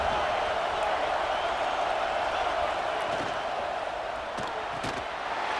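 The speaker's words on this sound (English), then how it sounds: "here comes the noise. This crowd is trying to inspire this defense to make a big red zone stop." Stadium crowd roaring during a college football game between LSU and Auburn as the defense faces a red zone stand, a dense sustained wall of cheering with faint scattered shouts.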